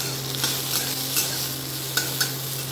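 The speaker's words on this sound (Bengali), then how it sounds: "একটু গোটা দিয়ে আর টমেটো ফোড়ন করলাম" Whole spices and tomato sizzle in hot oil while dal is being tempered, a steady frying hiss with a few brief stirring clinks, close and continuous, alone with a low steady hum beneath.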